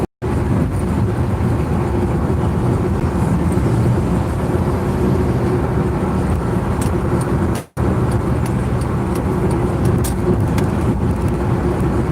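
Steady loud road noise from inside a car cruising on a two-lane-each-way New York State highway while a truck merges nearby, a constant broadband rumble with one brief dropout partway through.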